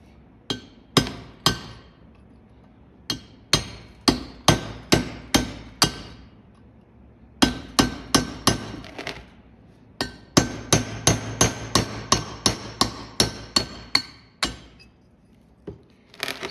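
Repeated sharp hammer strikes and chipping inside a cabover truck cab during interior teardown, pecking at material from the inside, in irregular bursts of rapid blows separated by brief pauses, close and loud, with no talking.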